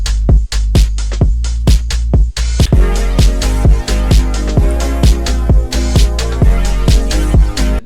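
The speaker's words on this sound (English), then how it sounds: "Then we got this drum loop to tie those together." An EDM drum loop with punchy kicks and crisp transient hits in a steady driving pattern over a sustained bass line, loud and full, with no voices.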